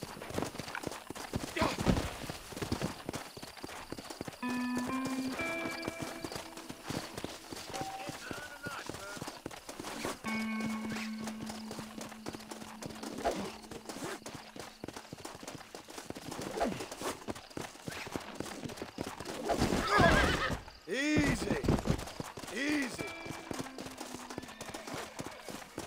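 A wild horse in the Red Dead Redemption video game stamps and clops its hooves, gives a few snorts and whinnies, and rustles against brief bursts of louder action, all under frequent talk from game characters.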